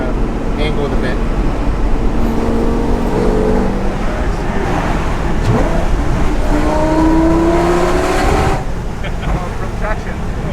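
A Lamborghini Gallardo with a gated shifter and facelift accelerates hard, its engine roaring loud and steady from inside the cabin, rising in pitch as it pulls, with people talking over it.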